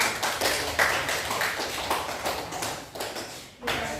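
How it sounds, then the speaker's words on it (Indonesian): A classroom group gives a round of applause, a busy patter of many hands clapping close by that runs steadily for several seconds before dipping briefly and resuming. "Tepuk tangan untuk kelompok ini."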